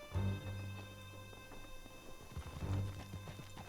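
Horse hooves clip-clop steadily during a ride in Red Dead Redemption 2, a rhythmic close-up trot with a couple of louder bursts over a constant low game hum.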